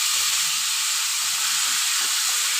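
Hilsa fish frying in a pan of hot oil gives a steady, even hiss that runs unbroken throughout at a moderate level, with no voices.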